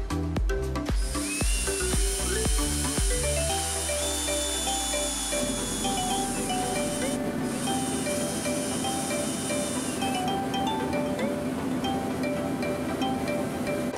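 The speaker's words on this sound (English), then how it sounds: "So I'm gonna drill two holes and bolt this on." A power drill bores two holes through a thin metal bracket for a car's ECU and relay board, with a whining motor, a few stuttering starts, and then a long, steady grind.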